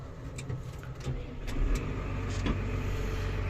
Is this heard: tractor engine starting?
yes